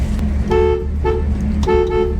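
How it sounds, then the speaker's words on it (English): A 1968 Chevrolet Camaro RS/SS horn honks twice, two short, loud, harmonic blasts from close by, with the engine idling underneath. "Nice horn."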